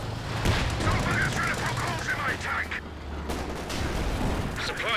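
Gunfire in a Company of Heroes 2 video game battle sounds as rapid, rattling machine-gun bursts under a low engine drone, with a voice talking over it.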